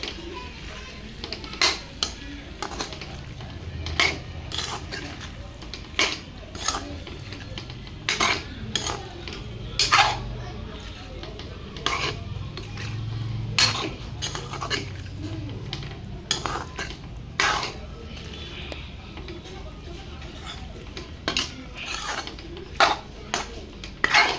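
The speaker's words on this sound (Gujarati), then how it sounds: "નાખી દઉં હવે બટેકા સારી રીતે હવે મિક્સ કરી દઉં" Potatoes being stirred in a pan for bataka bhungla, with repeated sharp clinks and scrapes of a spoon on metal over a soft steady sizzle, spaced irregularly throughout.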